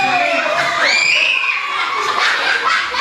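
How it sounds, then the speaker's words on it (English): Children screaming and shouting together in a loud, excited crowd, with some laughter mixed in, their high voices sustained and overlapping for several seconds. "We just scream Solar Max."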